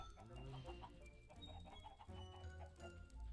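Minecraft chickens clucking in short repeated bursts alongside other farm-animal noises, steady and fairly close, with game sounds underneath and no speech.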